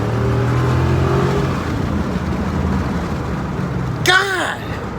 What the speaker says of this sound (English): This truck's just fucking amazing.